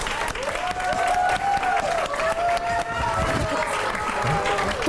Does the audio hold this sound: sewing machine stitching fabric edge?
no